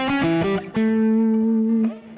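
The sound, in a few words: electric guitar through Fractal amp modeler, Dumble-style tone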